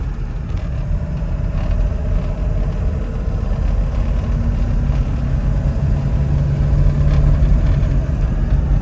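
A 2000 Ford Excursion XLT 4WD with a 7.3L Powerstroke diesel V8 drones steadily while driving, a continuous low engine rumble with mild road noise, close and unbroken, no voices.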